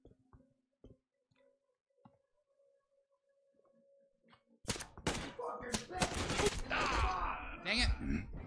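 Gunfire in the shooter Metro Exodus: a quiet stretch of faint ticks, then a sudden close burst of loud, rapid shots and impacts that keep going to the end.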